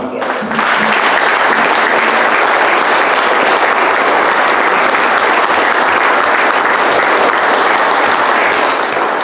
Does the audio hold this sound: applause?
yes